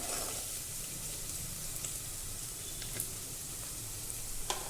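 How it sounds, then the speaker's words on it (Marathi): Green chillies frying in oil for a potato dish give a steady, close crackling sizzle with a low rumble underneath and a few faint clicks of a spoon. "हिरवी मिरची तेलामध्ये परतताना जरा चांगली परतायची"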